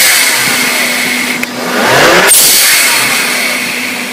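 A Volvo 850 engine fitted with a Forge blow-off valve idles close by, then gives one short rev that rises and falls away before it drops back to a steady idle.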